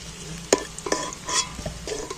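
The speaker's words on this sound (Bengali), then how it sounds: "আলুগুলো একটু নাড়াচাড়া করে লাল লাল করে ভেজে নেব।" Potatoes frying in oil for a cauliflower and egg dish are stirred in the pan, giving a steady close sizzle with a few sharp scraping clacks of the utensil.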